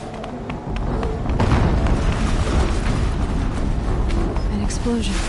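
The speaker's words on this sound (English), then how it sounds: "explosion." Explosions in the video game Horizon Zero Dawn, a dense roaring rumble that swells after the first second and stays loud and sustained, with a voice talking over it.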